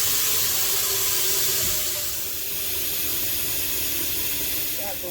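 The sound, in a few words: water filling a large pot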